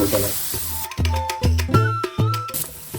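Desiccated coconut, slightly frozen from the freezer, lightly roasting in a pan, with rhythmic bursts of stirring and scraping and a few tonal clanks in between, close and fairly loud.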